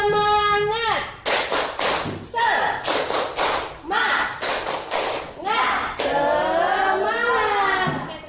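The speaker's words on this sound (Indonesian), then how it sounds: "Tepuk semangat." Students in an Indonesian classroom clap out the rhythmic 'tepuk semangat' cheer, short loud bursts of patterned clapping alternating with a voice and group chanting.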